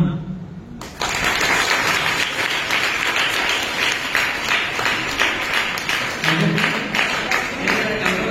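An audience at a Ganesh festival gathering in Rajahmundry claps in a dense, sustained burst of applause filling a hall, following a brief stretch of speech at the start.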